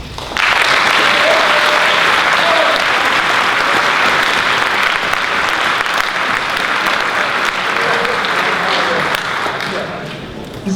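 A large school audience applauds steadily for the parents and families at a senior awards ceremony, the dense clapping holding loud and even for about ten seconds before tapering slightly at the end.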